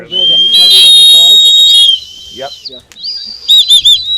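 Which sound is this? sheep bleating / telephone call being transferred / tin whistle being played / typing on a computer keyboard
tin whistle being played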